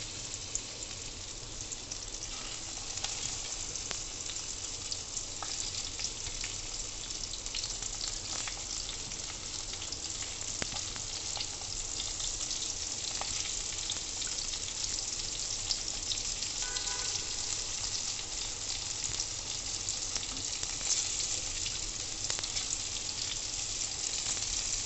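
Sindhi-style okra (bhindi) fries in hot oil with a steady, soft crackling hiss and scattered pops throughout, fairly quiet and with no talking.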